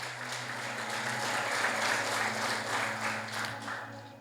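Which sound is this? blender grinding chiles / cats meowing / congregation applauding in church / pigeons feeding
congregation applauding in church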